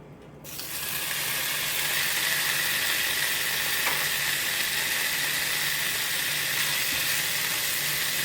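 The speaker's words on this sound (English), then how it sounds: "I'm going to put me a pound of bacon in here and start crisping it up" A pound of bacon hits a hot cast iron pan and settles into a loud, steady sizzle that holds for several seconds, close up with no talk.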